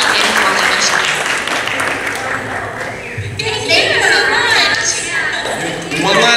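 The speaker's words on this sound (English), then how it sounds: "please give a round of applause" An audience at a convention panel claps and cheers loudly, with voices and crowd noise mixed in and the applause surging again near the end.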